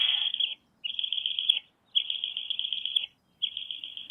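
A Eurasian eagle-owl chick calls loudly for food, giving four long, steady high-pitched begging screeches separated by short gaps, close and clear with no other sound.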